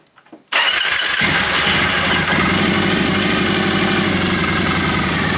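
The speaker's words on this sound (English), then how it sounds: "Just a little test fire, just to run the oil around the engine so we can get that exact level." A Triumph Bonneville motorcycle engine fires up after a brief crank and settles into a steady, loud idle with no talk. It runs at a slow tick-over to circulate oil during an oil change.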